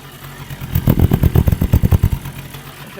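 A small old two-stroke moped engine sputters and chugs in a rapid, uneven rhythm, loud and close, then fades out near the end.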